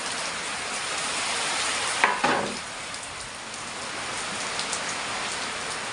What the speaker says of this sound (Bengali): দেখেছ কিরকম বৃষ্টি দেখো সাংঘাতিক বৃষ্টি